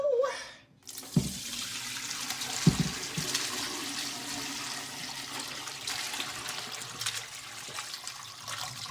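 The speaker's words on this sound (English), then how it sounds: "I'm just gonna pour everything in." Bone broth pours from a pot through a strainer into a stock pot set in a sink, a sudden loud rush of liquid followed by steady, close sloshing and trickling that continues throughout.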